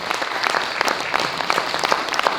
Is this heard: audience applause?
yes